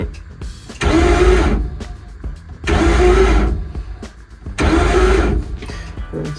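A car engine cranks in three repeated bursts, each a loud churning whir that fails to catch, with short quiet pauses between attempts, recorded close up.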